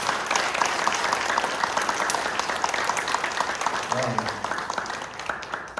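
Church congregation applauding children, steady dense clapping from a crowd filling the room without pause, with brief murmured voices underneath near the end.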